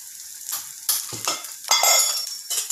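Spices such as chili powder, coriander powder and turmeric stirred and fried in a pan, giving short bursts of sizzling and scraping strokes separated by quieter gaps, close and moderately loud.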